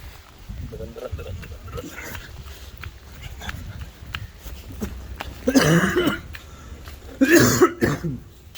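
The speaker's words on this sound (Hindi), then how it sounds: "खांसी भी आ गई।" Two harsh coughs burst out a couple of seconds apart over quiet outdoor background noise with faint rustling.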